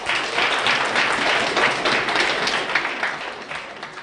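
A debating championship grand final audience claps in sustained, dense applause after a speech, loud and steady throughout with no voices over it.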